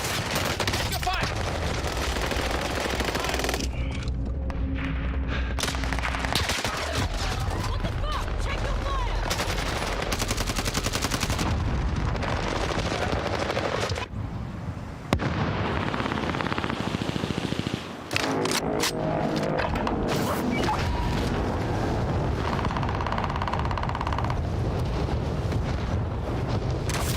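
Dense, continuous gunfire in Call of Duty Warzone, with loud overlapping bursts and rattling shots over a constant roar. There are brief dips in the middle, then the shots resume at full loudness.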